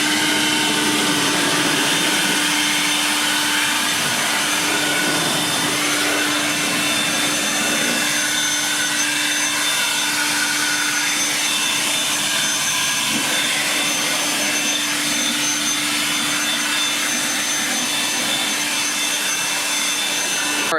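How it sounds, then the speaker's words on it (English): Air blower running on turbo mode at maximum airflow, drying the engine bay of a C8 Corvette after washing: a loud, continuous whooshing roar with a steady whine, held close and unbroken for about twenty seconds, no voices. "I've used this on the turbo mode where you get the maximum amount of air to shoot out as much water from this engine bay as I could get."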